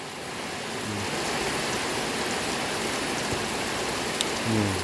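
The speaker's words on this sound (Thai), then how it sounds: "ฝนตกครับ FC เอ๋ย" Heavy rain falls steadily in a dense, continuous patter on surfaces nearby, filling the whole stretch at an even level, with no voices over it.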